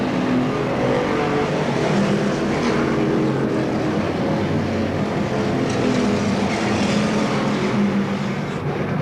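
Race car engines roar steadily at Seekonk Speedway during a 1992 weekly race, a dense, loud, continuous drone of several cars lapping the track without pause.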